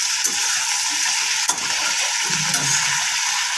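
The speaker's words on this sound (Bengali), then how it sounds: "এবার আমি ছিমটা একটু নেড়ে নিই" Flat beans being stirred in a frying pan: a steady, close sizzle of frying with soft scraping stirs and a brief clatter, no voices.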